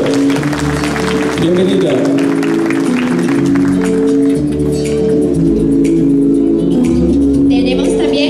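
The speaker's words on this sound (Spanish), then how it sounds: "Un aplauso." An audience at a Miss Teen Ancash 2016 pageant applauds to welcome a guest, the clapping sustained and loud while a presenter speaks over it.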